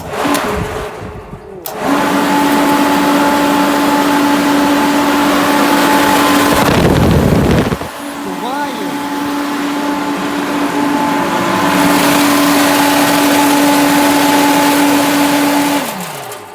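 A homemade soybean winnowing machine for cleaning seed soybeans runs loudly with a steady motor whine and fan drone, starting up after a short pause, briefly interrupted by a louder rushing burst, then continuing until it spins down.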